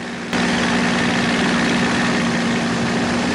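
A steady, loud piston engine drone from a vintage fighter aircraft holds throughout, a continuous low rumble with a constant hum and no voices.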